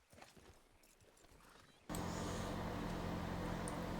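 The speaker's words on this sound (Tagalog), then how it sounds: "Baba mo si Gino sa kabayo" A horse in a video game clip-clops at a walk, faint at first, then a loud steady ambient bed takes over for the second half, with no clear voices.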